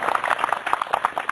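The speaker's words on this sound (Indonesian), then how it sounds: "Tepuk tangan dulu." Audience clapping in a Buddhist vihara gathering in Buleleng, Bali, a dense steady patter of many hands throughout, moderately loud and close.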